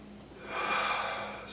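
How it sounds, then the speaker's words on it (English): A single audible breath during a Tibetan warm-up exercise, a soft airy inhale swelling and fading over about a second, close and alone. "Breathing in and out. Breathing into the body."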